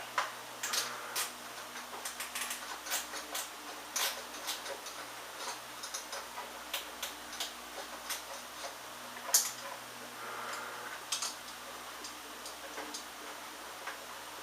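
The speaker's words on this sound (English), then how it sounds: "a ratcheting box works slick" A ratcheting box wrench clicks on a small 10mm bolt during fork seal work on a 1996 Yamaha YZF600, faint irregular ticking bursts in a quiet workshop.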